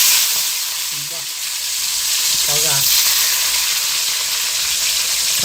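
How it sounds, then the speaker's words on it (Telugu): Chopped tomatoes frying in hot oil give a loud, steady sizzle and hiss throughout, close up, with a faint voice briefly audible underneath. "నరుక్కున్న టమాటాలు అయితే నూనెలో అయితే వేసుకుందాం."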